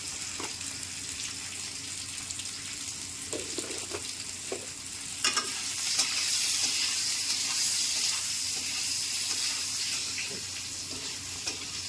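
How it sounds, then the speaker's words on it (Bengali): Eggplant pieces seasoned with salt and turmeric fry in a pan, giving a continuous close sizzle with occasional clinks and stirring taps, with no talk over it. "বেগুন ভাজা হয়ে গেছে।"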